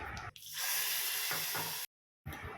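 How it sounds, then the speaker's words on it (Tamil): A tempering for dal, with mustard seeds, urad dal, dried chillies and curry leaves hitting hot oil, gives a loud close hiss and sizzle that stops abruptly, then starts again after a short silent gap. "பருப்புக்கு கடுகு, உளுந்தம்பருப்பு, காஞ்ச வத்தல், கருவேப்பிலை, கொஞ்சமாக பெருங்காயம் போட்டு பருப்பில் சேர்த்துக்கலாம்."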